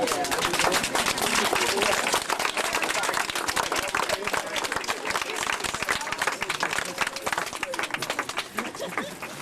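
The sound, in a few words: crowd applauding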